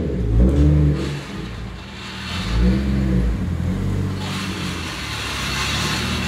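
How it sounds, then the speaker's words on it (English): A car on newly fitted suspension pulls away for a test drive, its engine rising and falling in pitch as it revs and accelerates, close and fairly loud, with no talking. "let's go for a little quick test drive"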